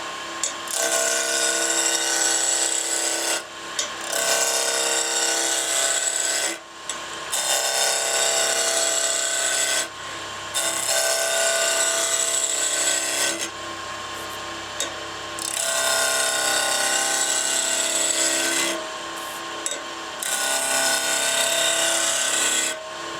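A power tool sands and finishes the two ends of a wooden pepper mill, a loud, close, continuous rasping whir that runs in long stretches broken by several short pauses.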